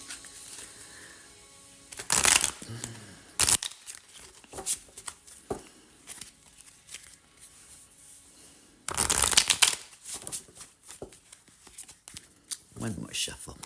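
A deck of oracle cards is shuffled by hand in two loud papery bursts, one early and one later, with softer riffles and handling between them, close to the listener.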